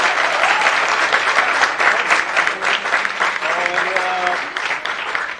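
An audience applauds vigorously after a student stage play at Bharatiya Vidya Bhavan, steady dense clapping throughout, with a few faint tonal voice traces briefly mixed in.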